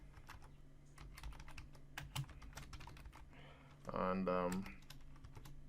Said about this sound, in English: So I'll just type Hello World again,